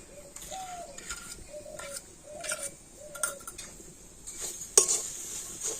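Coconut and jaggery are stirred in a kadai, with a spoon scraping and tapping against the metal in short repeated strokes, close and moderately loud, ending in a sharper clink.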